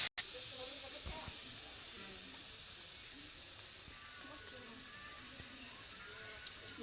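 Tomato, onion and green chili paste sizzling in hot oil while making an egg curry, a steady loud hiss that runs unbroken throughout after a brief sharp start.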